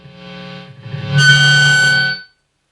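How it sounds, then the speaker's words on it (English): One loud, distorted electric guitar note rings out through a cranked solid-state amp head, sustaining with harsh overtones for about a second before cutting off. "I'm going to crank it up for a second, play like one note."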